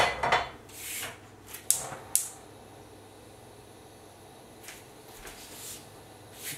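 A pan for shrimp and pork fajitas is handled and set down on the stove, giving a few clattering metallic knocks and scrapes early on, then quiet room tone with faint later rustles.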